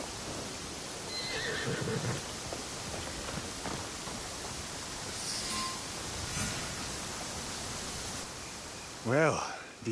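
A horse whinnies loudly near the end over steady rushing ambient noise in a PS5 video game riding scene, with faint hoof clip-clops and soft game sounds earlier.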